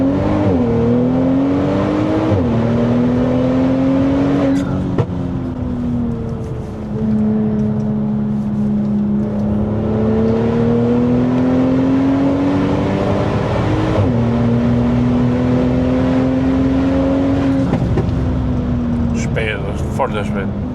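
A Stage 2 Mercedes C43 AMG W205 with a sport intake accelerating through gears, loud engine drone rising in pitch with distinct shift breaks, heard from inside the car while people talk over it.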